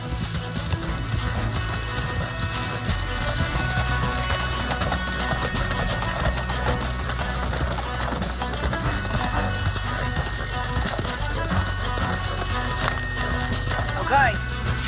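Horses gallop in Red Dead Redemption 2, a steady rapid clip-clop of hooves running under a dense bed of game music and ambience throughout.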